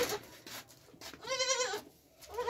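A dairy goat and its two kids, a Rajanpuri cross, bleat on a small farm: a couple of short, faint, wavering calls close by, with quiet noise between them.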